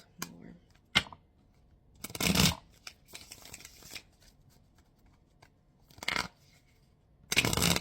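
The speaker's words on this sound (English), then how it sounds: "Let me shuffle this deck" A tarot card deck is shuffled by hand, with several bursts of riffling and crisp card flicks separated by short pauses, close and fairly quiet with no talk.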